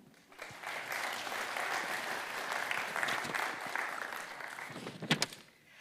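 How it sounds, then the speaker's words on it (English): Audience applause at an expo event before a panel debate, steady dense clapping sustained for about five seconds at moderate volume, ending with a few louder claps and a quick fade. "Please applaud them."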